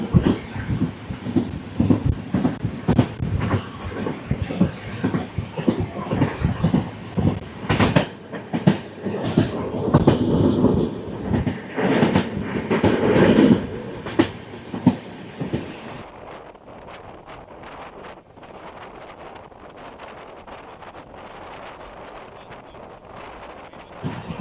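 Tambaram Express train hauled by a diesel locomotive on a non-electrified section: a loud, rhythmic clatter of wheels over rail joints with bursts of wind buffeting, fading to a steadier, quieter rolling rumble in the final stretch.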